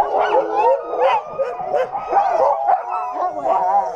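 A pack of sled dogs yips, barks and howls together outdoors, a loud, continuous and overlapping chorus of rising and falling cries close by, with no talking.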